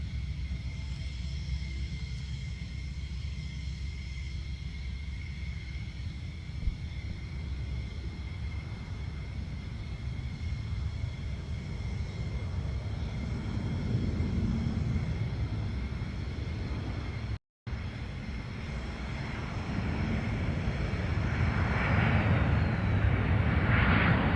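A military jet at the 2023 Joint Base Lewis-McChord airshow roars steadily with a broad engine rumble and high whine, swelling louder toward the end as it passes close, with no talk.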